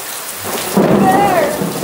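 Heavy rain pours down in a steady roar as a deep rumble of thunder rolls in and swells partway through.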